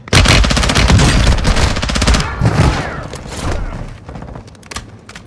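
Rapid automatic gunfire in Warzone Resurgence on Ashika Island, a KV Broadside in play, loud bursts of close shots rattling for about two seconds, then scattered shots and booms trailing off.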